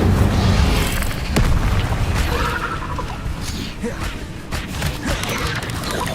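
An Incendio fire spell cast in the video game Hogwarts Legacy, a loud, dense whooshing burst and rumbling booms amid ongoing combat noise, with a voice heard over the action.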